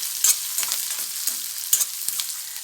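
Onion and crushed garlic sauté in a pan, a soft steady sizzle broken by a few sharp clinks and scrapes of a spoon stirring, close and alone with no talk.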